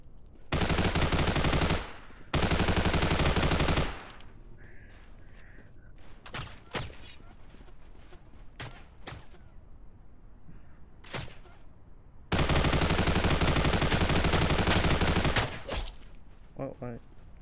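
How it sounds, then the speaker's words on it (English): A gun fires in the video game America simulator, long loud sustained bursts of automatic fire opening and closing the stretch, with scattered single shots and game noise between them. "this gun has way too much recoil to one hand"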